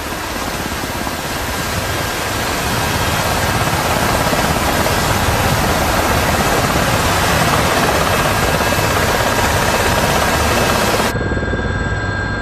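Steady, loud broadband roar of a helicopter close by, continuous throughout, with the rotor wash blurring into a noise-like rush before it cuts off near the end.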